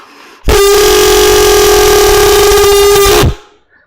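Five tuned tubes sounding together to imitate a train horn, one loud sustained chord lasting close to three seconds with an abrupt start and stop, and no voices.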